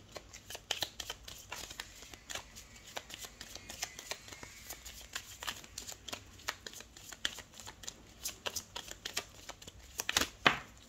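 Tarot cards being shuffled at close range in a quiet room, a long run of quick papery riffles and soft slaps with brief pauses between bursts and a sharper flurry near the end.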